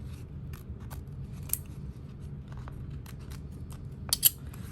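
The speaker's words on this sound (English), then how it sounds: "I'll just go ahead and do a little snip now to turn this through." Scissors snipping fabric while turning a knapsack overlay lined with waterproof canvas, a few sparse, close, dry metallic cuts spread across a quiet room, with a sharper pair of snips near the end.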